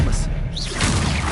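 Expelliarmus is cast in the Hogwarts Legacy video game: a quick magical whoosh with a sweeping shimmer, followed by soft thuds and impact rumble, all within about a second.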